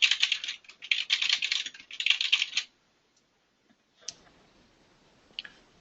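Rapid typing on a computer keyboard, close and crisp, comes in dense bursts for a couple of seconds, then stops, leaving near silence broken by a few isolated key clicks.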